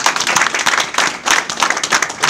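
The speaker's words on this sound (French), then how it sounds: "Alors nous allons acclamer le Seigneur" A funeral congregation claps together in acclaim of the Lord, a dense, sustained round of applause with rhythmic surges, close and loud throughout.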